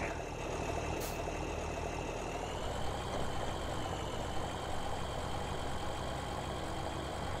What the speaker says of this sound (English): And then we will drive the tractor out of the way.